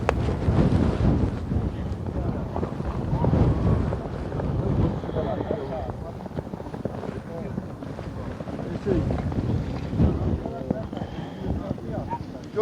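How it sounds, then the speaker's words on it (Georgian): Strong gusting wind buffets the microphone at an outdoor long-range rifle competition, roaring and fluctuating for several seconds while someone talks over it. "ქარი სამწუხაროდ მატულობს"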